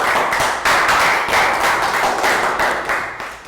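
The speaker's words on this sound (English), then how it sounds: "High five, round of applause." A Year 3 class claps together in a regular, rhythmic pattern of loud, evenly spaced bursts, like a chanted classroom round of applause, close and bright.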